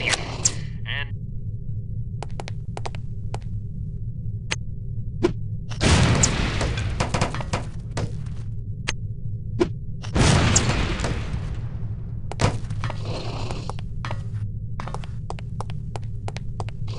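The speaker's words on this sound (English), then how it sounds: "These relatively inconspicuous-looking lipsticks are actually powerful explosive devices that detonate on impact" Explosive lipstick devices detonating on impact in No One Lives Forever, two heavy booming blasts several seconds apart over a constant low hum, with clicks and brief game sounds between them.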